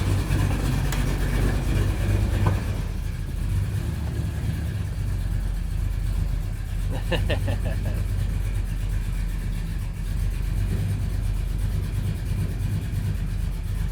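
A cammed Chevrolet Silverado shop truck's engine idles with a loping, uneven low rumble as it is shifted through the gears, heard close and steady, with a brief clunk partway through.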